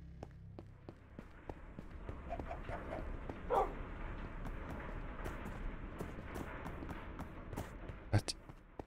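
Minecraft dog barks in short, sharp bursts against a busy game background with background music and effects, one louder yelp standing out near the end, while a player talks in German over the top.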